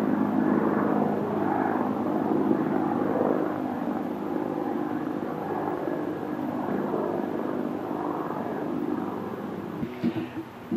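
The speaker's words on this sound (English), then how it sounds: "There's a chopper flying around above us at the moment, so starting to take over there, and it's quite loud." A helicopter circles overhead at night, its rotor and engine making a loud, continuous broadband roar that holds steady for the whole stretch, with a few faint knocks near the end.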